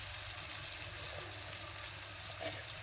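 Fish fries in a pan with a faint, steady, hissing sizzle and occasional soft pops, with no voices.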